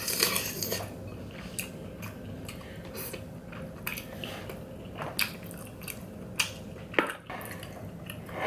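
Someone chews cooked octopus close to the mic, with wet, squishy bites and sharp clicks in an irregular rhythm and no talking.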